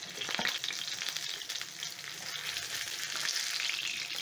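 A Nile perch fillet frying in a pan, with a steady, fairly quiet sizzle and a few crackles near the start, continuing evenly without talk.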